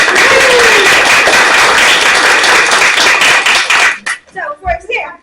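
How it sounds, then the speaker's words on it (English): A theater audience gives a loud, dense round of applause for the playwright, the clapping sustained for about four seconds before breaking off into a few scattered claps and a voice. "let's give James a round of applause"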